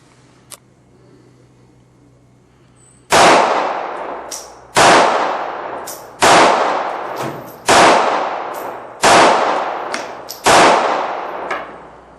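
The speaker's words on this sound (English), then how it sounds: "So 6 rounds from the Sig P238." Six gunshots from a Sig P238 pistol at a shooting range, loud sharp reports spaced roughly one and a half seconds apart after a short quiet lead-in, each with a brief decaying echo.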